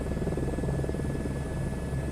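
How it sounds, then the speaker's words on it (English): A helicopter taxiing in a flight simulator video game gives a steady, moderately quiet rotor buzz and engine drone that holds constant throughout, with no talk. "I'm trying to get it to just taxi down the damn taxiway. Because it's a helicopter"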